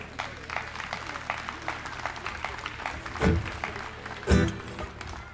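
Audience applause at an outdoor sung-poetry festival, Wolodia pod Szczelińcem, greeting a performer as he comes on stage: a steady patter of many clapping hands with a couple of louder bursts, no talk over it.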